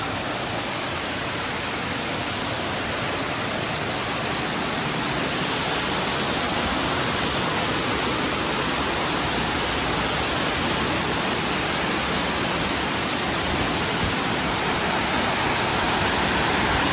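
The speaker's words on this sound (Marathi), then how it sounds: "आणि त्या बाजूला तो धबधबा" A steady, roaring rush of a waterfall beside a village temple at Ozarkhol, Nidhalewadi fills the whole clip, broadband and constant, with no voices over it.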